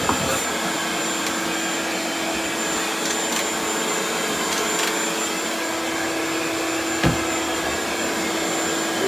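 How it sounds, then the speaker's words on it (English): An electric fan blowing during home remodeling work makes a steady, loud whirring hum with a constant tonal whine, joined by a brief thump near the end and no talking. "It has a fan blow on it."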